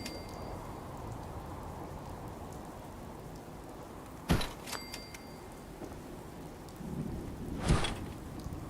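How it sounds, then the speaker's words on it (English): Steady rainfall in a Fallout 4 game world (Build the Commonwealth playthrough), a continuous hiss with two sharp thunder cracks midway and near the end. "It's just rainy."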